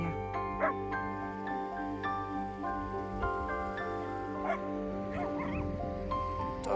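Several dogs yip, whimper and bark in short excited bursts over a steady background hum, fairly close and lively throughout.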